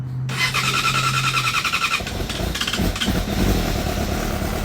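A 2017 Yamaha R6 motorcycle, unused for a couple of weeks, cranks with a whining starter, then catches and its engine fires into a loud, close, rough idle that steadies.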